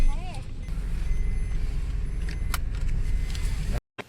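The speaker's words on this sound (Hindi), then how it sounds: "बाकी पहले लगाते हैं सीट बेल्ट।" Inside a car on a mountain road trip, a metal seat belt buckle jangles and clicks shut with a few brief metallic taps over low cabin rumble.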